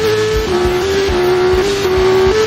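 Two cars in a movie chase, loud and close, with a sustained high tire squeal or engine whine that wavers in pitch, with short low thumps pulsing underneath.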